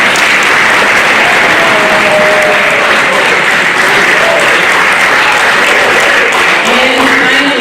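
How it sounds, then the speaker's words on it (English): A middle school orchestra concert audience gives loud, dense, sustained applause that fills the hall from start to finish, with a few voices faintly mixed in. "Give yourselves a round of applause"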